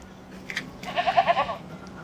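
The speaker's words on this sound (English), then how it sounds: "Goat." A goat bleats in a short wavering burst of several pulses, moderately close, preceded by faint scattered noises and with no talk over it.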